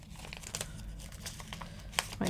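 Masking tape being carefully peeled off a punched tin lantern, a close, quiet series of crinkling and short tearing rips with a few sharper snaps toward the end.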